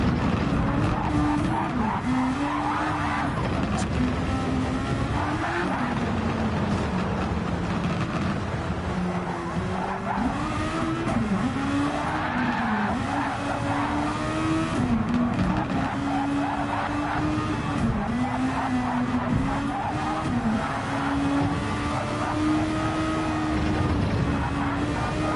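A race car engine howls continuously at high revs with repeated pitch shifts through gear changes, mixed with tire squeal and skidding, loud and close throughout, during a Japanese Grand Prix race.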